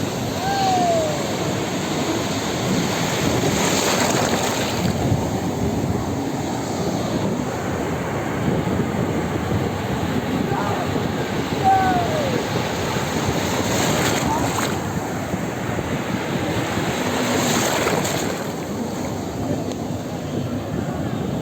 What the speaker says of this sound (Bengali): সমুদ্রের ঢেউ কতটা ভয়ঙ্কর সেটা আজকে আমি প্রথমবার ফলো করছি।